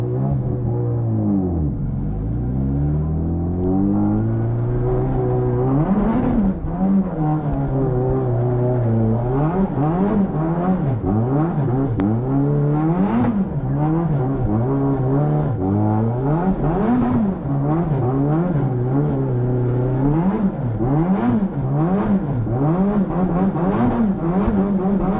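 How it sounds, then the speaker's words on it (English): Nissan S13 drift car revving hard while doing burnouts to heat its tires at a drift competition, engine pitch sweeping up and down in repeated loud surges, close to the car. "About to do some burnouts, get this thing warmed up."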